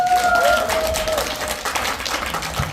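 An audience at a lecture applauds with steady, moderately loud clapping, mixed with crowd noise and a faint background tone.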